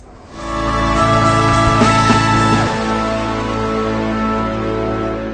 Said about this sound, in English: In case you're wondering what all that noise is in the background, it's actually a construction site across the street.